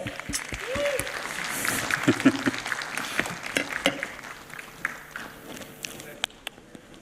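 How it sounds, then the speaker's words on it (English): A crowd claps in steady applause nearby at a conference in Kuala Lumpur, Malaysia, a dense patter of hands that thins toward the end, with a few voices underneath. "Give him a loud round of applause"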